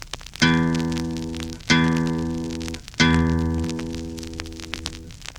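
The low open E guitar string is plucked three times, each note ringing out and slowly decaying before the next pluck, clear and close with no talking.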